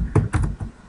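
Three quick clacks of typing on a computer keyboard, close and fairly loud, evenly spaced over less than a second.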